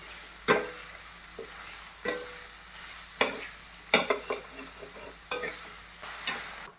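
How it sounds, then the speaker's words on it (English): Onions sizzle steadily in a hot pan for Bengali-style chicken bharta, broken by periodic scraping clacks of a spatula stirring, close and moderately loud. "So once the onions are getting fried"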